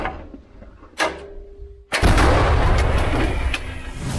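A sharp thump, then an enormous booming blast that rolls into a long, loud roaring echo: a heavy artillery gun firing close by at the front line in Ukraine.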